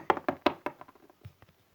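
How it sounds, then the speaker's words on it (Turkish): Knocks on a door come in a quick run of four or five sharp raps that fade into softer, scattered taps, close and with no talk. "Ah kapı çaldı bir dakika"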